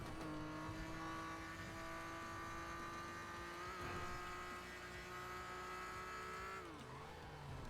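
A 1990s BMW driven in a racing-style video game, engine holding a steady droning note with harmonics at a constant pitch before easing off near the end, faint tire noise underneath, continuous and fairly close.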